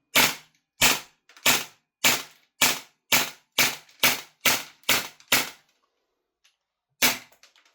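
An EMG/CYMA CGS Salient Arms gas blowback airsoft rifle fires eleven sharp, loud, evenly spaced shots, one roughly every half second. After a short silence a single further shot follows, with light mechanical clicks around it.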